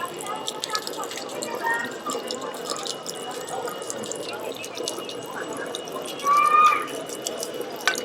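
Drinkable spring water runs and trickles from a village fountain in Hallstatt, Austria, a soft steady splash with faint background voices nearby.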